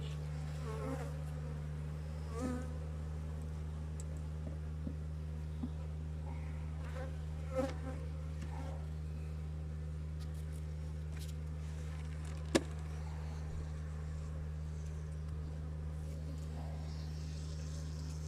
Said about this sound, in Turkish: Şu kadar arı var arkadaşlar.